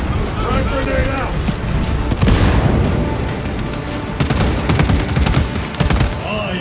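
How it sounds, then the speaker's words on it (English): A grenade blast and heavy, continuous gunfire in Warhammer 40,000 Space Marine 2, with loud, dense automatic fire throughout and a broad explosive burst partway through, under shouted combat voices. "Grenade out!"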